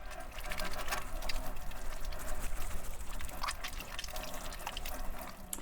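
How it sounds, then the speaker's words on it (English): Warm water runs steadily into a kitchen sink while hands are scrubbed with soap, a continuous splashing hiss with small rattles and drips and no voices. "we'll go ahead and wash our hands at the sink with soap and warm water for at least 20 seconds"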